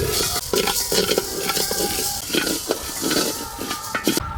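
Whole moong beans are stirred in a dry wok, giving repeated close scraping and rattling strokes in an irregular rhythm, with a faint hum of background noise throughout.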